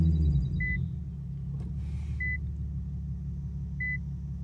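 An Infiniti Q50 engine idles with a low, steady rumble after starting, with three short dashboard chimes spaced about 1.6 seconds apart over the hum.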